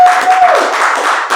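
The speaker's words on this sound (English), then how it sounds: "Everybody start clapping" A studio audience claps together on cue at a real life street stars show, a steady burst of applause that carries from start to finish beneath a brief steady tone.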